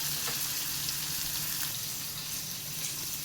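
Onions sauté in a hot pan for Kerala brinjal mezhukkupuratti, a steady close hiss and crackle of frying with faint occasional stirring clicks, no voices.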